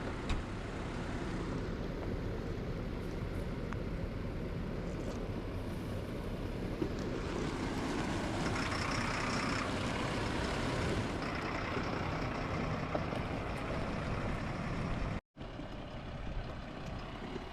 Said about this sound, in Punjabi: ਇੰਜਣ ਦੀ ਗੜਕਦਾ ਤਾਂ ਹੈਗੀ ਉਦਾਂ ਇੱਕ ਵਾਰ ਟਾਰਕ ਬੋਲਦੀ ਆ